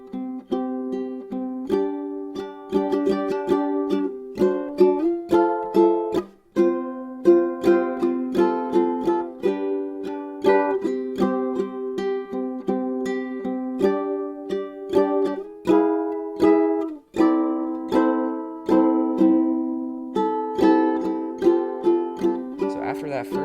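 Ukulele strummed through the chorus of the One Piece opening in a steady rhythmic pattern of bright, ringing chords, played alone and close with clear strokes and brief pauses between phrases.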